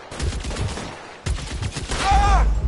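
Gunfire in the video game L.A. Noire, a few bursts of shots breaking through a fairly loud, busy mix, with a voice talking over part of it.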